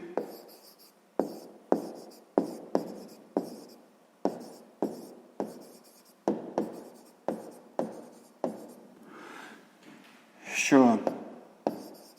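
Chalk or pen taps and strokes mark out a math solution in a steady series of short, crisp strikes on a writing surface. A voice speaks briefly near the end.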